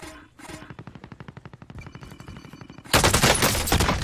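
Call of Duty: Warzone gunfire from a PPSh submachine gun, a fast rhythmic burst of shots followed by a much louder, denser barrage of overlapping fire, close and continuous with no voices.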